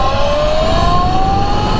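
A Sur Ron electric bike at full throttle, its motor whine climbing steadily in pitch over a rough background rumble, loud and close for a brief moment.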